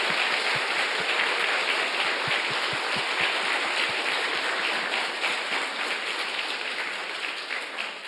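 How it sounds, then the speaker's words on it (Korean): A church congregation applauds together after a baptism service for children, a dense, steady crowd clapping that fills the whole stretch and eases off slightly toward the end, with no voices over it. "축복하는 마음으로 우리 박수하겠습니다"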